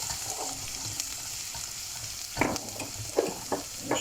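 Small garlic pieces sautéing in oil for a pasta sauce: a close, continuous sizzle with scraping stirs and a few louder clatters of the utensil against the pan near the end, no talking.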